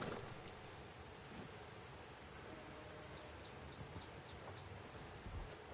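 Horse hooves clip-clop in Red Dead Redemption 2 under a steady wash of wind and outdoor ambience, with the footfalls soft and partly buried in the background noise.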